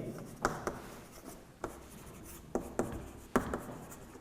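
Chalk or marker strokes on a board in a physics classroom, a series of short, sharp taps and scrapes at an irregular rhythm, fairly close and moderately quiet, with no talking.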